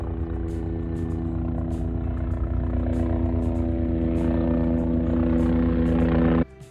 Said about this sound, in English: remember what I was saying about the helicopters?